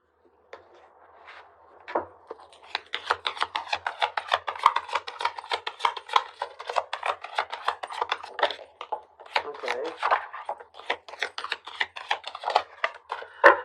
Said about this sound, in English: They're telling me to cut the deck, so I will.